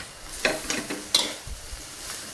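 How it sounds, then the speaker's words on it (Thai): Napa cabbage stir-fried with pork in a pan for a glass-noodle soy sauce dish, a close sizzle under several sharp spatula scrapes and tosses, with no talk. "เนี่ยการก็จะผัดผักกาดขาว ตลบหมูลงมา"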